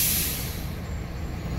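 A bus pulling into a terminal lets out a loud, close air-brake hiss, a bright burst that fades into a steady rushing whoosh over low engine rumble, with no talking.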